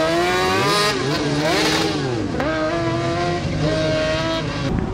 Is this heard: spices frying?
no